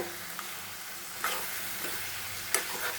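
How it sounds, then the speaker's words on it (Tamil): Chicken with chilli powder fries quietly in a pan, a soft steady sizzle with a few faint scrapes of stirring. "இதையும் நல்லா அந்த பச்சை வாசனை போகிற அளவுக்கு அப்படியே கொஞ்சம் நேரம் ஃப்ரை பண்ணி விடுங்க"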